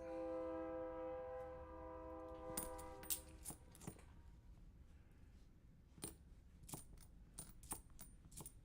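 A train passes in the distance, a horn-like tone fading out, followed by scattered sharp metallic clanks and clicks against quiet background.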